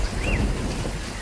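Heavy rain pours steadily in a cartoon scene where a small bird struggles to fly with soaked wings, a dense continuous hiss heard alone with no voices.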